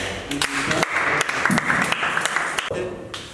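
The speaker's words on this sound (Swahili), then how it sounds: "makofi makubwa kwa Bwana." A church congregation at a youth service applauds, dense steady clapping filling the room from start to finish, with a voice faintly audible underneath.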